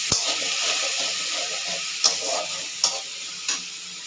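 Onion and tomato paste fry in hot oil with a steady, close sizzling hiss, broken by a few sharp ticks and spatters spaced about a second apart.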